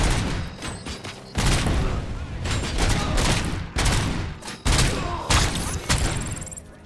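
Rapid bursts of gunfire and heavy booms from the shooter game Robocop: Rogue City, loud and dense with repeated volleys and impacts across the whole stretch, no talk over them.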